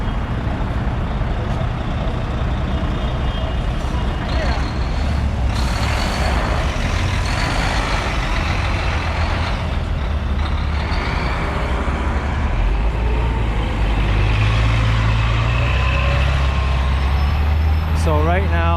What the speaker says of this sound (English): It's also a very, very busy street for passenger buses and buses that go across town.